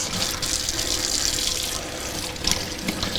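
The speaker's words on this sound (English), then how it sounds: "You can turn off your water" Water pours from a tap in a steady splashing rush as a dyed golf disc is rinsed at the sink, close and continuous.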